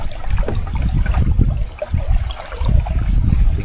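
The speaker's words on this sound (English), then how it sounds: "You can hear the water rushing." Steady rushing water through a culvert at Littlefield Lake in Exira, Iowa, with a low, churning roar and scattered splashy bursts, loud and continuous throughout with no voices.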